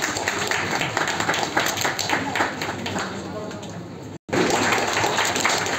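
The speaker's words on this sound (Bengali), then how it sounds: "পেছন থেকে হাততালি।" Audience applause rolls steadily through a crowded award ceremony honouring madrasa board exam achievers in Murshidabad, dense and continuous with a brief dropout near the end.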